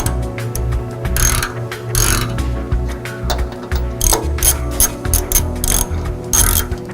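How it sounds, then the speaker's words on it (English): A ratchet with a 13/16 socket tightens the rear transmission mount nuts on a Ford Super Duty during a skid plate install. Close, loud bursts of rapid clicking come in repeated strokes with brief gaps between them. "you're going to install both of the nuts that hold the rear transmission mount, and you're going to tighten these up, again using your 13/16 socket"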